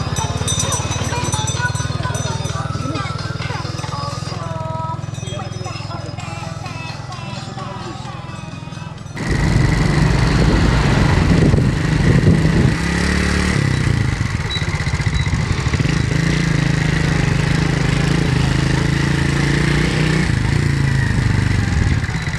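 A small motorcycle engine idles and revs close by outdoors in Cambodia, with clattering and scraping around it and people talking over it; the engine gets louder and rougher partway through.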